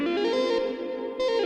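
A sustained synth tone passed through the Eventide Eurorack reverb module's 80s bar preset, a wide lush wash that swells, dips near the middle and blooms again, alone with no voices.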